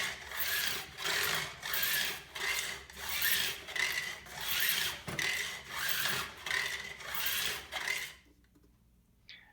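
A file rasps back and forth across guitar fret ends in about eight even strokes, a dry scraping rhythm, followed by a brief quiet moment.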